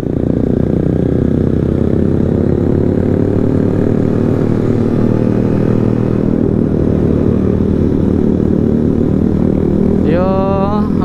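Honda CBR150R motorcycle engine droning loud and close while climbing uphill, a steady low rumble with the revs easing, and a brief rising whine near the end.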